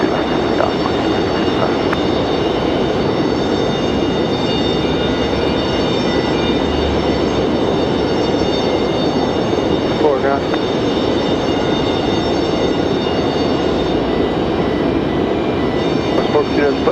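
An airliner takes off from runway 23 left at Raleigh-Durham International, its engines a loud, sustained roar throughout, with a voice heard over it.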